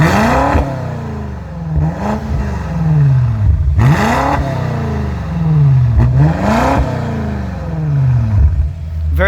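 A 2018 BMW M5 engine revving while parked, rising and falling in four strong, repeated throttle blips close by, with a loud steady idle between them.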